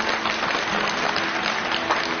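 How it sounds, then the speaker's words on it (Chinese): A studio audience at a televised book-recommendation talk show applauds steadily for about two seconds, a dense, even wash of clapping with no voices over it. "我们也给他一些掌声好吧"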